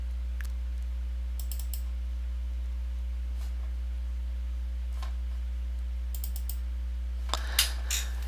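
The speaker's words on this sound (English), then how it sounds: "let's double click." Soft computer mouse and keyboard clicks in a quiet room with a steady low electrical hum, including a quick double click near the end.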